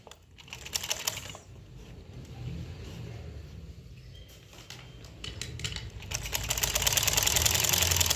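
A sewing machine stitches a zip into a pair of trousers, its run of rapid mechanical ticking growing louder and denser toward the end, with short bursts and pauses in between.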